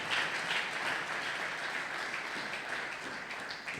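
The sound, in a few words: church congregation applauding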